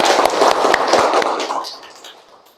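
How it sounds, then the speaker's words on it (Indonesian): Applause from a classroom of students, a dense burst of clapping that starts loud and fades away over a couple of seconds. "Tepuk tangan untuk kita bersama."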